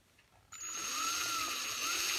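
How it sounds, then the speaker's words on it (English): A power drill pre-drilling holes through a clip holding two pieces of a BMW E38 grille together, starting abruptly and holding a steady close, high whine. "I'm going to start pre-drilling this second one here."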